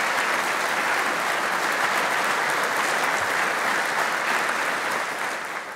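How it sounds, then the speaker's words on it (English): Steady, full audience applause fills a police awards ceremony hall, dense and even for several seconds before easing slightly at the end. "I'd like a round of applause for her generosity."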